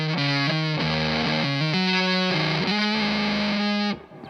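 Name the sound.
electric guitar through Walrus Audio Eons fuzz pedal, neck pickup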